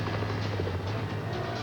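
Steady low thump of a helicopter's rotor, continuous and moderately loud, with no voices over it.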